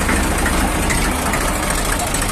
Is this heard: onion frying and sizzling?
no